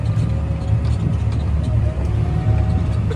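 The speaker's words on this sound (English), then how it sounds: "so I gotta come over here with the skid steer and pick it up" A skid steer's engine runs close by in a field, a loud, rough, steady diesel-like rumble with a faint whine and small fluctuations in level throughout.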